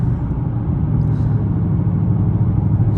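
Interior drive of a 2019 Ford Mustang GT with 10-speed automatic, a loud steady low engine drone and road rumble with a smooth gear change barely breaking the tone.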